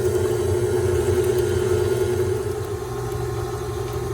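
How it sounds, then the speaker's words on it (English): A KitchenAid stand mixer stirs eggs into chocolate chip cookie dough with a steady, droning motor hum and constant whirring that holds throughout, close and with no talk. "I'm going to lock my KitchenAid in place and stir that in"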